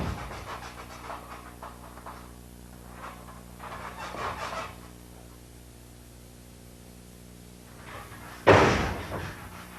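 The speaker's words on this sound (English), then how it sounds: "It's just a matter of popping the meaty part of your forearm against the width of his chest" A single heavy slam from a pro wrestler's forearm smash to an opponent's chest, loud and close, lands near the end after a stretch of low crowd-like murmur and rustling.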